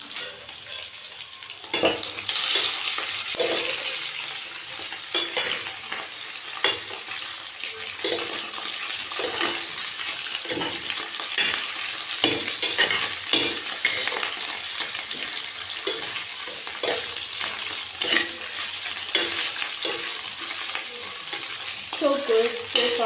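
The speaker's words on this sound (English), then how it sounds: "So I'm frying it." Meat sizzles in a pan with a constant hiss, broken by repeated scraping and stirring sounds throughout, loud and close.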